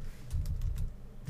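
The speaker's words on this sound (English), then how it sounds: "I'm trying to type one-handed" Someone typing one-handed on a computer keyboard, a short run of fairly loud, irregular key clicks close to the microphone over a low background hum.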